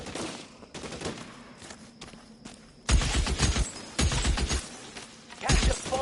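Gunshots crack in loud clusters during an L.A. Noire shootout, some rapid and overlapping, others singly with quieter stretches and rubble sounds between.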